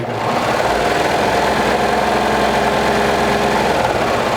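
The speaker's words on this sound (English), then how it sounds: "I'm just going to sew straight" A twin-needle sewing machine sews a straight seam, a loud, continuous, close whirring hum of steady needle strokes throughout, with no voices.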